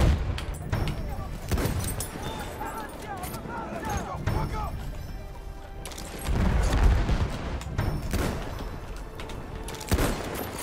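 Gunfire in Battlefield 1 comes as repeated sharp shots and booms over busy battlefield noise, with sniper rifle shots mixed in among other firing throughout.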